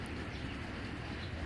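Soft, low cooing of a racing pigeon, a continuous murmuring burble close by, with no talking.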